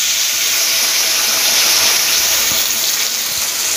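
Water is poured from a bowl into a cooking pot while preparing a plantain flower and prawn curry with ginger, cardamom and cinnamon paste, a loud continuous splashing gush that runs steadily from start to end.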